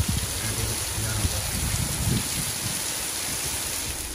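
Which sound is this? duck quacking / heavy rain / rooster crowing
heavy rain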